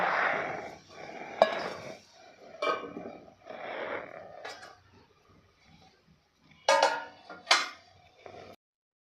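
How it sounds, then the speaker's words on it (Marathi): A lid goes onto a pan of aloo matar saloni, potato and pea mix, with a few metallic clinks and clanks of cookware, two sharper knocks near the end, over a soft kitchen background. "आता यावरती आपल्याला दोन मिनटासाठी झाकण ठेवायचं आहे"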